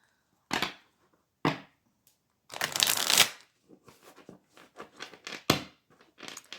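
A deck of tarot cards is shuffled by hand in sharp, separate bursts of riffling and slapping, a couple of quick swipes followed by a longer rustling riffle and then a string of softer taps and shuffles.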